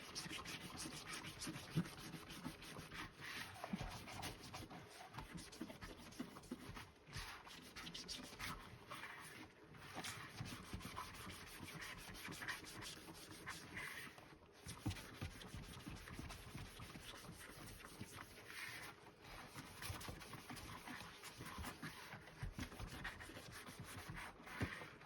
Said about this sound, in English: just use simple dish soap and sponge to basically clean the mat